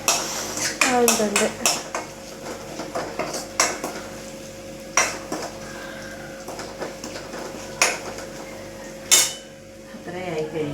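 A spoon scrapes and clinks against a pan while food sautés, with a soft sizzle beneath irregular metallic knocks and stirs; a person speaks briefly.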